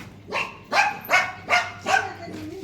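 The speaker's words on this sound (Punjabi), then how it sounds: "ਜਿੰਮੀ ਆਉਨੇ ਆ ਉਹਦੀ ਹੱਥ ਭੌਂਕਣ ਲੱਗ ਜੂ" A dog at a roadside dhaba in Punjab barks five times in an even rhythm, each bark sharp and moderately close, over a low constant background hum.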